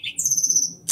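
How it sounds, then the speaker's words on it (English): An unfamiliar bird gives a clear, high, sustained whistled call lasting under a second, close and alone with no talking, after a brief sharper chirp at the start. "I'm not sure what bird that is."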